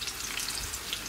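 Food bubbles and simmers in a pot on a home stove, a soft steady sizzling hiss with small popping bursts, faint and continuous, no voices.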